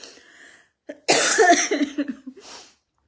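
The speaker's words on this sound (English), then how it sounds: "I want to cough now." A single close cough bursts out, followed by a few rough, breathy coughing hacks trailing off, with no talking.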